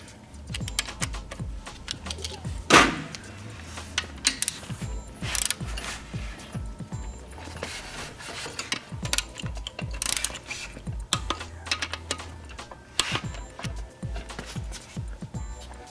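Torque wrench ratcheting as it tightens bolts to 24–26 foot-pounds during a 1.3L Suzuki Samurai engine rebuild and piston installation, with repeated close clicking ratchet strokes and a few sharper metallic knocks.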